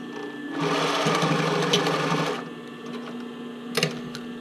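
A sewing machine stitches down a bra cup overlay in one close, buzzing burst of about two seconds, followed by quieter rustling and a brief clack.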